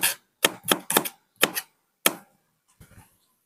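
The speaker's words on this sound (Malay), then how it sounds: "saya iris je, iris nipis je." A kitchen knife thinly slices garlic cloves on a board, giving about six crisp, separate chopping strikes in an uneven rhythm with short pauses between them, close and fairly loud, with no talking.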